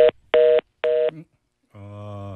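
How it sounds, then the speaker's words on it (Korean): Electronic telephone beeps as a phone interview call drops: three short identical tones in a quick even rhythm, then a longer steady tone after a pause, clear and alone. "지금 전화 인터뷰 도중에 전화가 끊겼습니다. 갑자기 삐삐 소리가 나는데"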